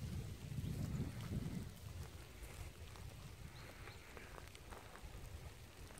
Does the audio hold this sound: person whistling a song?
no